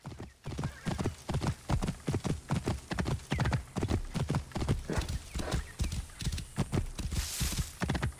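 Horse hooves clip-clop in a steady, brisk rhythm in the video game Assassin's Creed Origins, close and clear, with a brief whinny breaking in near the end.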